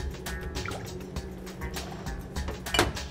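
Basil and apricot simple syrup, about an ounce, pours into a cocktail with soft dripping and trickling liquid sounds over faint background noise, ending in a brief louder splash near the close.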